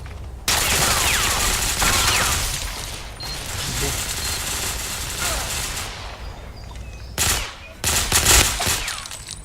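Automatic rifle fire rattles in sustained bursts during a match of the video game Tom Clancy's Ghost Recon Phantoms, loud and dense, with a lull and then further sharp volleys near the end; players talk over it.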